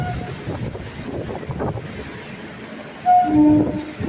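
Low rumble of an old locomotive engine idling nearby at Nagercoil Junction, followed by a short, loud horn blast near the end.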